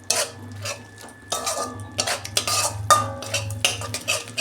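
A spatula scrapes and taps against a pan as spice paste with tomato is stir-fried for a Bengali bhola fish dish, a series of close, irregular metallic clinks and scrapes over a low sizzle.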